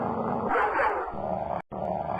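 A dog growls low and continuous in a Sherlock Holmes adventure game, a rough rumbling snarl close by with a brief cutoff near the end before resuming.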